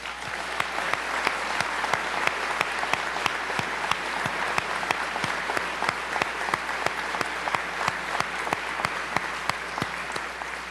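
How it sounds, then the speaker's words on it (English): Sustained audience applause at a public swearing-in ceremony for the NYPD, a steady dense wash of many hands clapping, fairly loud and even throughout with no voices over it. "Our warmest, deepest, strongest round of applause and congratulations are for the men and women of the"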